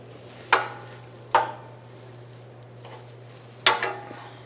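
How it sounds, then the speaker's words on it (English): An open-end wrench works on an O2 sensor on a 2007-2012 Nissan Versa, giving three sharp metallic knocks at uneven intervals, close up over a low steady hum. "We're going to try our wrench here and loosen this."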